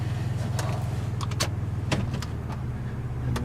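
A car running at idle is shifted into reverse, with a low steady engine hum and a few clicks and clunks from the gear selector.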